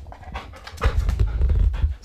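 A border guard detection dog panting close by, rapid rhythmic breaths growing louder midway and continuing steadily with no speech.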